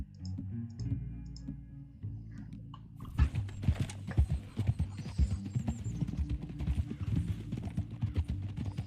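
Horses galloping in the Red Dead Redemption 2 video game, a steady rapid clatter of hoofbeats that starts after a quieter musical opening, continuing loud and close under game music with no talk.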